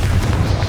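A Confringo fire spell blasts in Hogwarts Legacy, a single short, loud, low-heavy burst with a rumbling boom filling the brief moment on its own.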